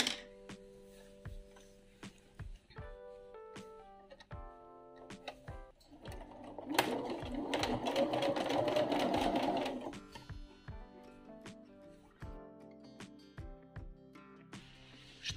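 A domestic sewing machine stitches binding onto a Christmas table runner, with short clicks and handling sounds, then a sustained close whirring run of several seconds before stopping and more clicks and fabric handling.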